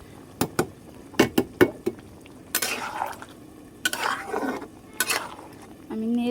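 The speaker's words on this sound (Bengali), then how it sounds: "আমি নেড়ে চেড়ে দিচ্ছি।" Bottle gourd with small shrimp stirred in a pan, starting with quick metal clinks of a spatula against the pan, then longer scraping turns over a soft frying hiss, close by.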